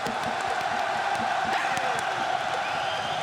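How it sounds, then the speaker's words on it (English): A large crowd in a full arena at the 2017 EU LCS Summer Final esports match, steady roar with cheering and whoops; a rhythmic clapping pattern is hard to pick out under the broad noise. "that I had to commentate, the clapping game for a full arena"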